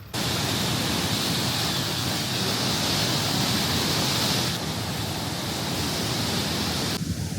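Water from Lake Taupo rushing through a canal toward the Waikato River in New Zealand, a loud, steady hiss and roar of fast-flowing water, continuous and close, with no voices.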